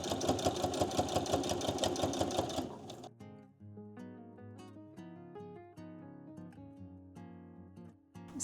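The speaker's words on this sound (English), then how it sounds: "So now I'm going to stitch it down" A sewing machine runs steadily, stitching together the fabric pages of a sewn quiet book, then stops after about three seconds and gives way to soft, sparse tapping and rustling noises.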